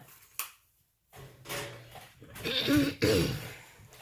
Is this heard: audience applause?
no